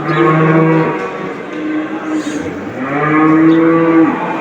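Cattle at a live animal market in Çubuk, Ankara, let out two loud, drawn-out moos, one near the start and another in the second half, close and clear over faint background noise.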